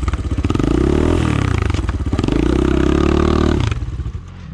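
A motorcycle with a broken exhaust runs loud and close during a brake test, its engine revving up, dropping as it slows, climbing again, then cutting back sharply near the end.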